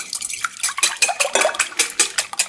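A whisk clatters quickly against a large mixing bowl while three large eggs are beaten, giving a steady run of close, bright metallic taps with no talk.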